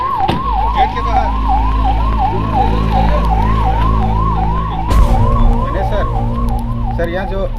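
An ambulance siren wails steadily and loudly in a repeating rising-and-falling cycle over a low engine rumble, with a sharp bang partway through and faint voices beneath it.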